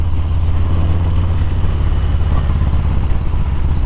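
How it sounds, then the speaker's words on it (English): Harley-Davidson motorcycle riding along, a loud, steady low engine drone with constant rumble and wind throughout, close and continuous with no talk. "Guess my bike just wanted to go to the Harley dealership"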